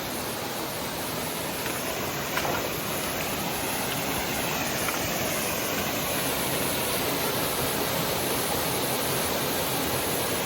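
Creek water pours over a small drop in a secluded hinterland gorge, a steady broadband rush that holds constant and fills the whole stretch without voices.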